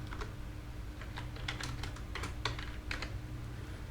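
Typing on a computer keyboard while building a WordPress page, irregular clusters of light key clicks over a steady low hum, close and moderately quiet, no voices.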